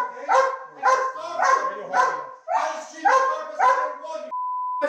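A dog barks and whimpers in a string of short, high, whining bursts at close range, followed by a steady electronic tone at the end.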